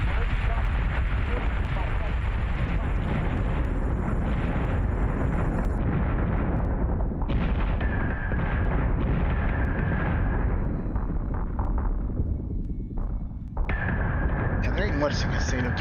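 Capital ship guns firing in the space battle game Battlestar Galactica Deadlock, with a steady rumble of explosions and booming shots under continuous talk, broken by brief high electronic tones.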